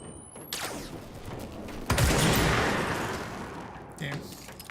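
Gunfire in the action video game Control, a burst of loud shots with a sharp blast near the middle and another crack toward the end, under a dense, noisy in-game mix.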